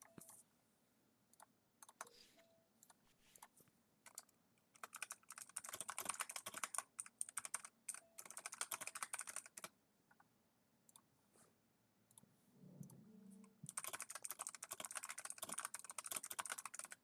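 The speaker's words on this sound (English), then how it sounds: "I had to stop typing on Discord." Rapid clicking of keys on a computer keyboard during typing at a desk, in two long bursts of steady keystrokes separated by a quiet pause, close and fairly soft.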